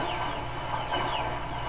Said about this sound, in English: I was gonna say chicks because of how they sound, but they're definitely ducks